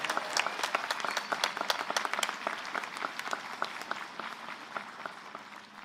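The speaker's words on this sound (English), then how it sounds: "Please give them a round of applause." A university commencement audience breaks into dense applause with many overlapping hand claps, strong at first and then gradually thinning and fading.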